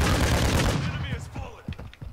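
A rapid burst of gunfire in the Warzone video game, loud and dense at first, then breaking into a few scattered thumps under a voice.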